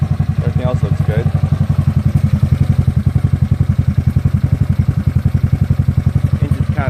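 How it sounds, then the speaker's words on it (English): A GY6 scooter engine runs steadily at fairly high RPM, its rapid, even pulsing close and loud with a rattling vibration throughout, while a person talks over it. "Engine's kind of vibrating a lot now."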